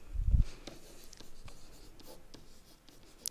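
Writing out a math statement by hand, with a scratchy stroke of pen or marker on a surface, a few quiet ticks and small scrapes following at a steady pace, close and faint with no talking.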